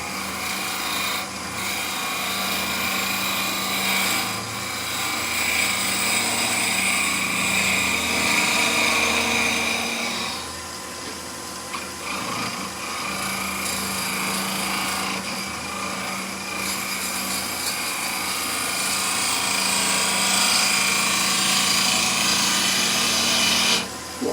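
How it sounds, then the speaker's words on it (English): A woodturning gouge roughing out a wooden bowl on a lathe, with a steady, continuous scraping and rasping cut that runs almost without a break, dips briefly around the middle, and carries a low motor hum underneath. "You see me use it to rough down as a bowl gouge and also as a spindle gouge, that twisting action"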